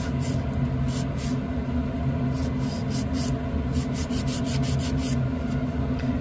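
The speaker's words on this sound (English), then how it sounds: "So I always start with filing my side walls first, trying to get a rough shape." Steady close rasping of a nail file shaping the side walls of fingernails, continuous rubbing strokes with no pauses or talking.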